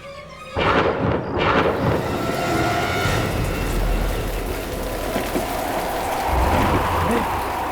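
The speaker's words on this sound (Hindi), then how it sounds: "अचानक की हवाएं कैसे चल रही हैं? इतनी तेज हवा" A sudden storm sweeps through a graveyard at night, with strong wind roaring steadily as a broad, rushing noise and deep rumbles that sound like distant thunder. It runs continuously with no talking.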